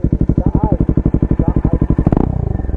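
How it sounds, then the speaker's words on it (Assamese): A Dominar 400 motorcycle with a valvetronic exhaust idles up close in neutral with a steady, loud, throbbing beat, then a quick throttle blip near the end speeds up the pulses; a voice briefly comes through. "মাতটো শুনাম আপোনালোকক ভেলভেট্ৰনিকৰ। অসমৰ প্ৰথম ভেলভেট্ৰনিক ইন বাইক ডমিনাৰ 400।"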